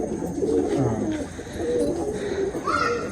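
Pigeons in a loft give steady, low, rolling coos close by, with faint human voices underneath.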